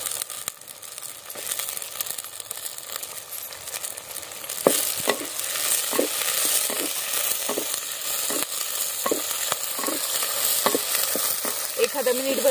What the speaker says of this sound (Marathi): आता हे थोडस परतून घ्यायचं आपल्याला, ह्याच्या बरोबर फ्लावर पण टाकायचं धुतलेला।